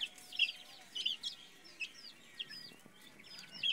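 Young chicks of a local native breed chirp and cluck at a small farm, with several short, high peeps scattered across the clip, fairly close and moderately loud over a low background hum, no voices.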